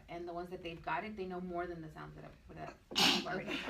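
A single sharp sneeze bursts out near the end of a teachers' coaching discussion, arriving loud and sudden right after steady conversational talk.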